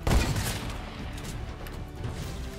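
Sticky grenades exploding in the video game Fortnite: a dense burst of boomy blasts at the start, trailing into a rumbling, crackling wash of combat noise with no one talking.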